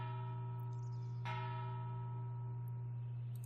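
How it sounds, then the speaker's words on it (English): A single bell struck in the video game Planet Coaster, built as part of a pirate-themed ring station, ringing out once and then sustaining a long, slowly fading metallic tone over a steady low background hum. "yeah, we got to have the bell."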